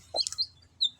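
A chicken on a farm gives a few short, sharp clucks close by, with brief gaps between them against a quiet background.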